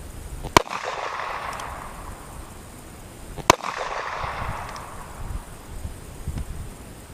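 Two sharp, loud gunshots from a Ruger Vaquero .45 Colt revolver with a 4.5-inch barrel firing 250-grain cast bullets, spaced about three seconds apart outdoors, each cracking out and then fading, with wind noise between them.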